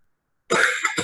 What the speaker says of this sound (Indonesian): tiba-tiba tenggorokan terasa gatal lalu batuk